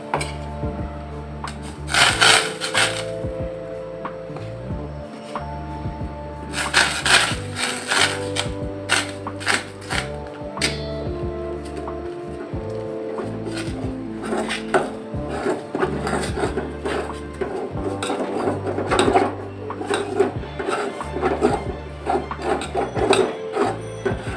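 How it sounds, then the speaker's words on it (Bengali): Wheat flour is stirred into hot water in a pot to make roti dough, with repeated scraping and rubbing strokes in uneven bursts, fairly quiet and close, without any speech. "এভাবে সবগুলো আটা আমি মিশিয়ে নিলাম গরম পানিটাতে।"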